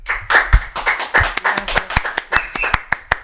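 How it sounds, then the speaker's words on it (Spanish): Studio applause welcoming a guest on a Spanish-language talk show, starting as scattered hand claps that build into a brisk, rhythmic clapping of a few people, close and fairly loud. "Por favor, fuerte el aplauso para Paulina."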